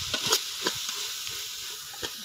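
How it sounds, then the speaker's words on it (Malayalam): Sliced onions sautéing in two spoons of oil with salt: a steady, close hiss of frying broken by a few scraping stirs of a spoon in the pan. "അതിൽ ഇതിൽ 2 സ്പൂൺ എണ്ണ വെച്ചിട്ടുണ്ട്, 3 ഉള്ളി സബാള ഇട്ട് നമുക്ക് ബ്രൗൺകളായിട്ടുള്ള ഉപ്പിട്ട് നല്ലോണം വാടണം"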